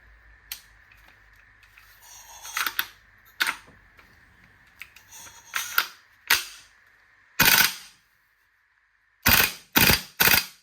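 An E&L QBZ-191 airsoft rifle fires single shots, about eight sharp, fairly close cracks spaced a second or so apart, with faint mechanical clicks and handling noises between them and no voice.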